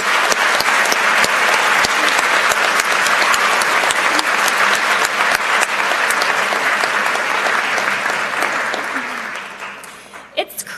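An audience applauds at a 2017 school convocation, loud sustained clapping that carries on for several seconds before tapering off at the end.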